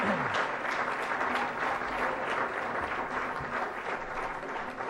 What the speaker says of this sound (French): Je vous demande d'applaudir Audrey Lacroix.